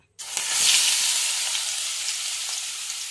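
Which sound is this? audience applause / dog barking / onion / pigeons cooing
onion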